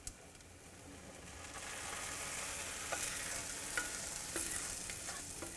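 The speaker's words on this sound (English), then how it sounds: "The dal's already done, and I'm just going to lift this and add it in the dal." Hot oil with garlic and cumin is poured into cooked masoor dal and sizzles in a steady hiss that swells and holds, with a few light scraping clicks from a spoon, close, with no talking.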